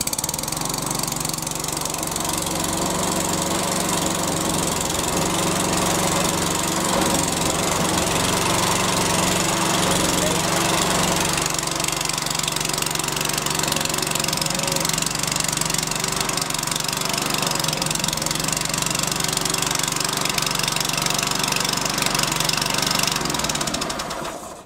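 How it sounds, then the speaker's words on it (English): A Hyundai HYM430SPER self-propelled electric-start petrol lawnmower engine runs steadily and loudly close by, a constant throbbing drone with no talk over it. "Back with the OPC lever, start the engine."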